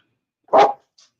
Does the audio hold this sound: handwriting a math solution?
no